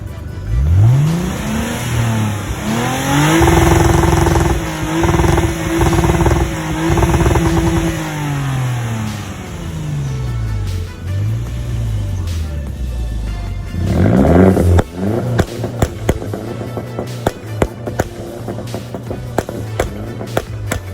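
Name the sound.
Lexus IS250 with Megan Racing exhaust revving and popping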